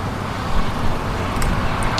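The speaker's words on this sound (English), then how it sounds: "And you do hear cars passing by." Cars pass along a road near a beach, a steady, fairly loud roadway rush with faint higher hisses of tyres, heard from the roadside without talk.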